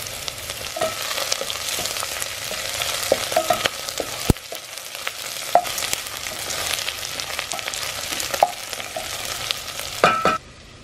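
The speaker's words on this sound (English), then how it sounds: "Next, I will let the garlic join with the white onions." Garlic and white onions fry in a soup pot with a constant close sizzle, while a spoon stirs and taps the pot at intervals and a louder clatter comes near the end.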